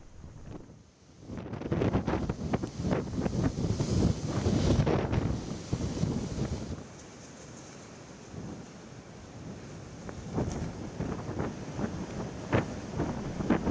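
Strong wind from Typhoon Wipha roars and buffets steadily, rising in gusts and easing briefly before surging again, with no voices.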